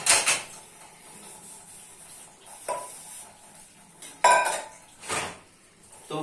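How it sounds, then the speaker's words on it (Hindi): Dishes, pots and pans clink and clatter in a sink while being washed in a Pakistani home kitchen, loud metallic knocks and scrapes spaced a second or so apart over running water. "सारे बर्तन वॉश कर लेंगे और फिर नेक्स्ट आप"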